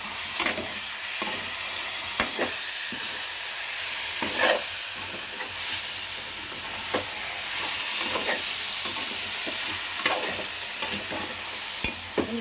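Yogurt stirred into stuffed bitter gourd masala in a pan, a constant close sizzle broken by repeated scraping strokes of a spoon every second or two, with no voices.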